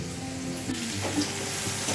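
Ginger paste sizzles in hot oil in a frying pan, a steady close hiss and crackle with faint stirring scrapes, no talk.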